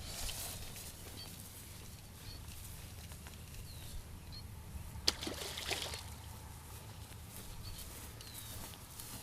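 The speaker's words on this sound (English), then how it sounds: "We're going to get him back in the water." A caught fish, landed on a spinning rod and reel, is released back into the water, with faint trickling and dripping around a single brief, sharp splash midway through.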